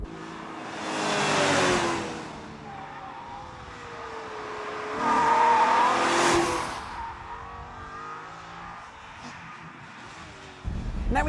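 A Maserati 4200GT Spyder's engine and exhaust swell as the car accelerates, with two rising, roaring revs that ease back between them. The sound is steady and fairly close.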